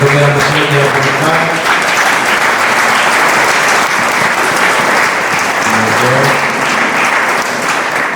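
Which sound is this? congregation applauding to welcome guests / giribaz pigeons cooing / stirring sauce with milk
congregation applauding to welcome guests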